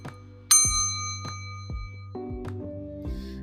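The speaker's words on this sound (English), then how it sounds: "pink hand painted ceramic bottle with a metal bell on top. Like, it is, I can't get it to like make the ringing sound." A metal bell on top of a pink hand-painted ceramic bottle rings in a series of bright, clear dings, one sharp strike followed by several softer ringing tones that decay over a few seconds.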